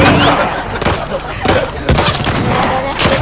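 Gunfire in the video game The Last of Us Part II, loud sharp shots fired in an irregular series of about five bursts with a dense rumbling background between them.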